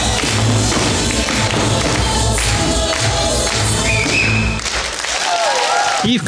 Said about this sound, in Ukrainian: конце традиционное браво и аплодисменты